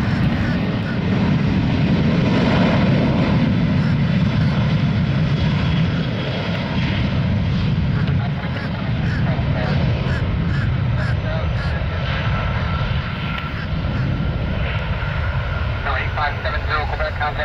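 A Southwest airliner takes off outbound to Indianapolis, its engines roaring steadily and loudly throughout, with a voice talking over the roar.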